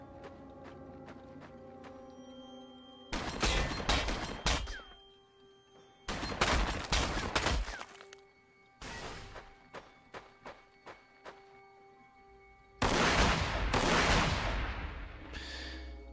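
Bursts of rapid gunfire in Warhammer 40,000: Sanctus Reach, several loud volleys separated by short pauses and single shots, sharp and close, with no talking.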